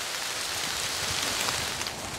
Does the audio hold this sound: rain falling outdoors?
yes